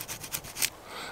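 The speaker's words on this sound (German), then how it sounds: "Mit solch einer kleinen Säge kriegt man natürlich auch nur solche Äste maximal durch." Small folding saw blade of a Zanmax pocket knife cutting through a thin branch outdoors, giving a few quick rasping strokes in a short burst, close and fairly quiet, with no talking.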